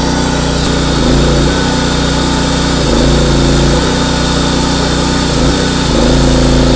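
Gasoline generator combined with a welding machine, running just after being started with the choke adjusted; a loud, close, steady engine drone with slight periodic dips in pitch, no voices over it.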